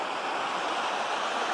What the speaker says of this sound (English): thankfully there's a bit of water in the creek